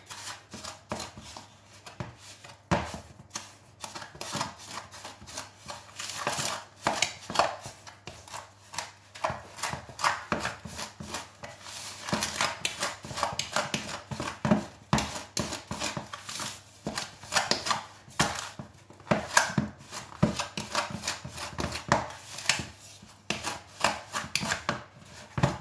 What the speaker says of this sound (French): je mélange mon beurre